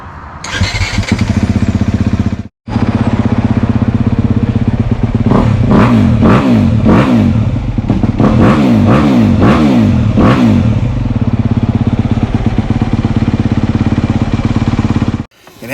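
A 2022 Honda CRF250RX dirt bike, kept in neutral, starts up close by, briefly cuts out, then fires again and settles into a steady idle broken by several sharp revving bursts before dropping back to idle.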